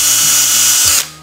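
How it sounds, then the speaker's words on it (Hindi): Electric drill whirring steadily while enlarging a hole in a board for a series testing extension board, loud and close, the motor pitch dipping slightly under load before cutting off near the end. "अब यहाँ पर ड्रिल की मदद से मैं इस होल को बड़ा कर लूँगा।"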